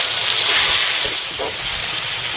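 Turmeric- and salt-coated shrimp frying together with onion in a pan for a Bengali shrimp and elephant-foot-yam stalk dish, a loud, steady, close sizzling hiss with faint stirring underneath and no talk.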